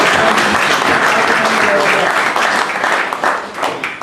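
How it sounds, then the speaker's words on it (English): Big audience applause at a Kashmir gathering in the United Kingdom, loud dense clapping from a large crowd that holds strong and then starts to thin and fade toward the end. "Can we have a big"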